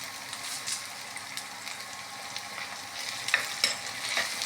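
Curry leaves and chopped shallots fry in a pan for Kerala-style fish head curry, giving a steady low sizzle with occasional sharper crackles and pops that build toward the end, heard close up with no talk.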